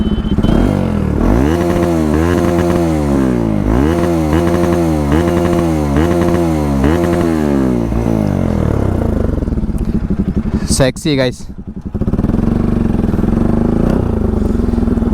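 A Bajaj Pulsar NS 200 motorcycle is ridden in wet, rainy conditions, its engine loud and close, rising and falling in repeated rev cycles before settling to a steadier drone, with someone talking over it.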